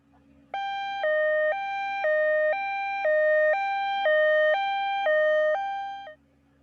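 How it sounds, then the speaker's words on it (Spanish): Ambulance siren wailing in a steady two-tone alternation, loud and clear, with several regular high-low cycles before it cuts off. "La ambulancia."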